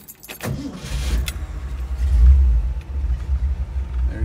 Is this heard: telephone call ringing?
no